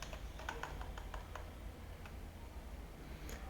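Computer keyboard typing at close range, a quick burst of light irregular key taps followed by a pause and a couple of isolated clicks over a low hum.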